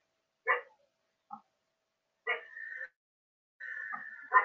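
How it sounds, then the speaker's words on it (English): A dog at home gives a few short, sharp barks, then drawn-out whining yelps, each burst separated by silence. It is fairly close but not loud, with no talking. "my dog is barking"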